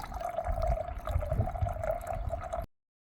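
Filtered water pours through a bandana into a CNOC bag on a trail hike, a steady close gurgling fill lasting a few seconds before stopping abruptly.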